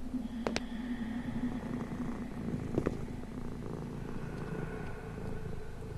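A cat purring in the horror game Teke Teke: a steady low rumble continues throughout, close and even, with brief clicks and thumps near the start and middle.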